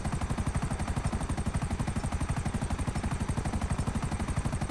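Explosive rounds fire in a rapid, steady stream of evenly spaced blasts at a helicopter in a video game, loud and continuous with no talk.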